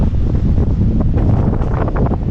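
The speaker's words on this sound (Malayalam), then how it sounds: "നല്ല കാറ്റുണ്ടായതുകൊണ്ട് നിങ്ങൾക്ക് ഞാൻ പറയുന്നത് കേൾക്കുന്നില്ലെന്ന് അറിയാം" Strong wind buffets a microphone outdoors on a road trip around Merimbula, a loud, continuous low roar and rumble filling the whole moment with no clear voice over it.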